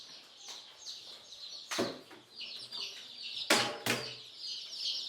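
Local chickens on a Ugandan poultry farm cluck and chatter faintly in the background, with several sharp knocks or bangs cutting through.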